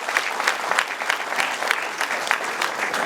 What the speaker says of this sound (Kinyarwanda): Abadafite ishyari bagukomera amashyi menshi cyane.